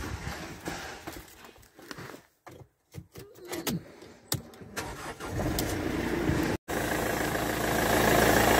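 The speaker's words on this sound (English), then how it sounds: "Please start the engine." A Mercedes C220 CDI diesel cranks in short bursts, then catches and settles into a steady, loud diesel idle that continues close by.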